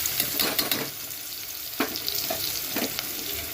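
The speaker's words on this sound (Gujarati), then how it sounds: "ડુંગળી થોડી કેવી સતડાઈ જાય પછી આપણે એમાં મરચું અને બટેટા અને બધું નાખી દેશું" Chopped onion fries in oil for a wheat upma, with chili and potatoes to follow, giving a close, crackling sizzle and a few sharper scrapes and bursts from stirring against the pan.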